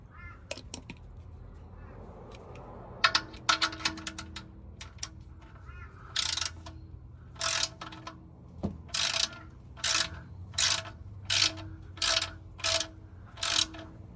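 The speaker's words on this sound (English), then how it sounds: "I'll get the ratchet now" A ratchet tightens the oil drain plug on a Toyota Hiace 2.7 litre petrol van, giving short bursts of rapid clicking repeated in a steady rhythm after a few scattered clanks, close and clear.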